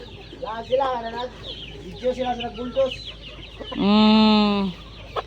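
Many native and Red Island chickens on a provincial farm cluck loudly and close by in repeated bursts, ending with one long, drawn-out hen squawk; other birds chatter faintly in the background.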